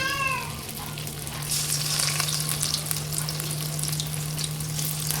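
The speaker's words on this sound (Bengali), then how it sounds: "এর কারণে তো আমি দিয়ে দিই একটা করে চিকেন তেলের মধ্যে।" Pieces of chicken fry in hot oil in a large wok, giving a continuous close sizzle with a steady low hum underneath and no talk.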